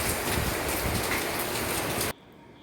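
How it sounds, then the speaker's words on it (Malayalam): Heavy monsoon rain pours steadily and loud, a dense, even hiss, then cuts off abruptly near the end, leaving near silence. "എന്താ പെരും മഴയാണ്. ഒരു 2-3 ദിവസമായിട്ട് മഴ തന്നെയാണ്."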